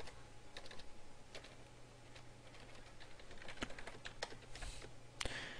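Keys clatter in quick irregular bursts on a computer keyboard, close and fairly quiet, with a steady low hum underneath and no talking.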